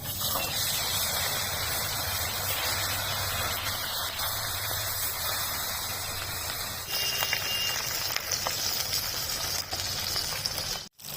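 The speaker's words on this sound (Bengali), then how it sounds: "মাছগুলো এরকম কড়া কড়া করে ভেজে নিয়েছি" Bata fish rubbed with salt and turmeric fry crisp in hot oil in a pan, giving a soft, steady sizzle and hiss with small crackles and a few light clinks near the end.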